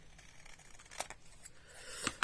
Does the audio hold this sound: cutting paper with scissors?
yes